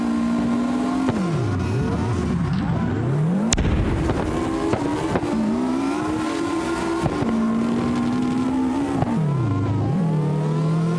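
Subaru WRX engine in a racing video game, revving and shifting continuously with rising and falling pitch sweeps as it slides through corners, loud and steady throughout with a sharp bang partway through.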